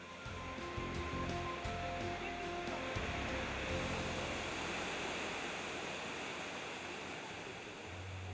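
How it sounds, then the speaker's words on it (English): A waterfall of crystal clear water pours in a steady, broadband rush that stays constant throughout, with faint low hum and tones mixed in underneath. "This dreamlike waterfall with crystal clear water is the perfect photo op."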